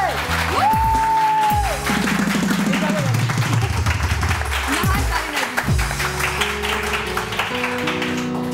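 A studio audience on a morning TV show claps and cheers in a contest to make the most noise, a steady dense roar that runs the whole time beneath louder tonal music and voices.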